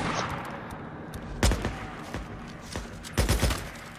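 AK rifle fired in the video game Days Gone while a horde attacks, heard as a few short bursts of sharp gunshots with quieter shots in between, fairly close and with no talking.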